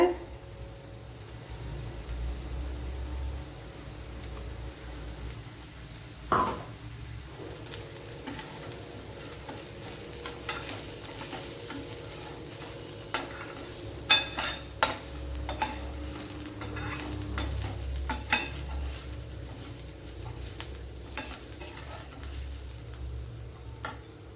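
Ground spice paste sizzles softly in a pan for a Kerala-style kova leaf dish, with intermittent scraping and clinking as it is stirred, faint and steady over a low background hum.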